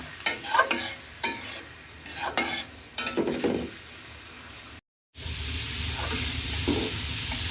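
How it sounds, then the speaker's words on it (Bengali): Grated carrots stirred in ghee in a wok for carrot halwa: a series of scraping, clattering stirs with light sizzling, then after a brief cut a steady, louder frying sizzle with occasional utensil knocks. "কড়াইয়ের মধ্যে দিয়ে দিচ্ছি ঘি সাথে দিয়ে দিচ্ছি গাজর ভালো করে ভেজে নিচ্ছি"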